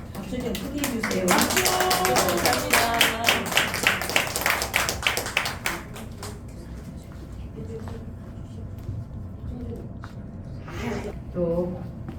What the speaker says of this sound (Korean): 박수 좀 크게 해주세요.